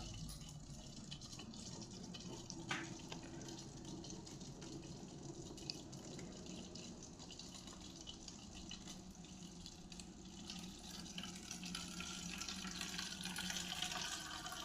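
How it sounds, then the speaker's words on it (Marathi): Steady water running from a water can's tap into a bottle, a continuous gushing hiss with a slight rise in pitch as it fills, no voices. "तुम्हाला पाण्याचा आवाज येत असेल बहुतेक"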